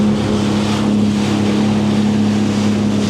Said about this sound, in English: I would classify this as fast moving water.